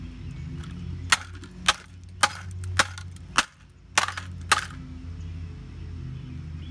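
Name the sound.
smashing computer parts with a hammer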